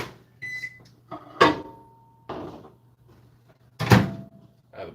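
A powerful microwave oven hums low in a home kitchen, with a few beeps and the clunks of its door opening and closing, quiet and close with no talk.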